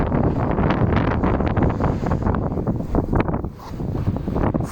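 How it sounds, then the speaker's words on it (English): Heavy wind buffeting a microphone, rumbling and gusting loudly throughout, with a brief dip in intensity near the end. "Windy afternoon."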